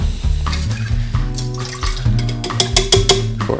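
Water pours steadily into a measuring container for mixing black-and-white film developer, a close, continuous splashing stream whose tone rises as the vessel fills, with no voices.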